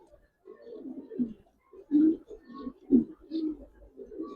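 Pigeon cooing from a pair of Gribaz pigeons held close, a series of soft low throaty coos repeating in bursts at moderate loudness, with no talking over it.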